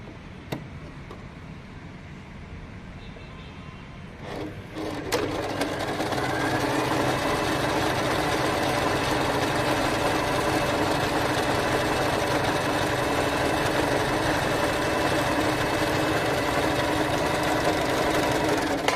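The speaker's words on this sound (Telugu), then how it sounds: "ఇప్పుడు మనం స్టిచ్ ఎలా వస్తుందో చూద్దాము." A portable compact sewing machine starts with a few clicks, then runs continuously in a fast, even, close mechanical whir as it stitches, with no speech.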